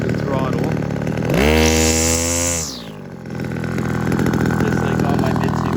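A Kawasaki TF22 line trimmer with a rebuilt carburetor idles loudly up close. The throttle is opened once, so the two-stroke engine revs up for about a second before dropping back to a steady idle.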